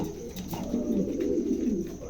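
Blue barless pigeons coo steadily in low, throaty murmurs, close by and continuous, with no talking.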